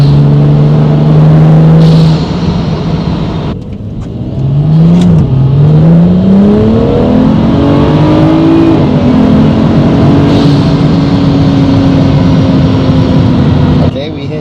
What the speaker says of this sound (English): I don't know if you can hear the turbos through the mic, but man, they sound good.